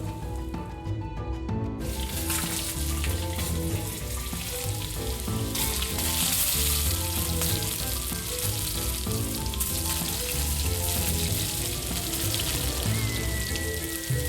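Onions frying in a kadai with a small splash of water added, giving a steady, loud sizzle and hiss that runs continuously throughout with no talking.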